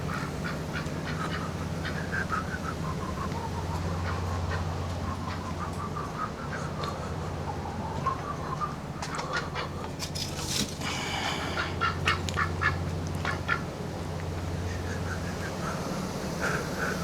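Ducks quack repeatedly in bursts and clusters, some close and loud, others softer, over a constant low outdoor hum.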